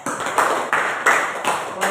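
Students in a classroom clap in short rhythmic bursts, several sharp, close-sounding rounds of hand claps in quick succession.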